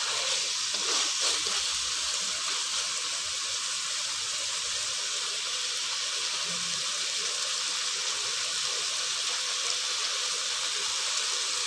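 Spinach goes into a pan of frying masala where the oil has separated, giving a continuous close sizzle and hiss with faint stirring, steady throughout and without any talking.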